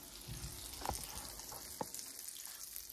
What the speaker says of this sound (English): The butter is bubbling up.